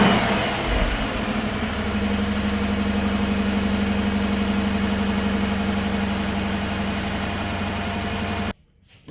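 A Dodge Durango engine starts and settles into a steady, loud idle with a constant low hum and faint vibration, running for several seconds before cutting off abruptly at the end.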